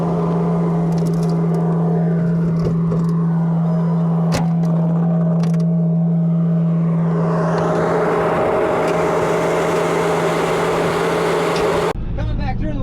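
A C8500 tandem axle dump truck pulling a trailer loaded with a Kubota SVL 90-2 through the woods gives a loud, steady engine drone with a low tonal hum, while people talk over it.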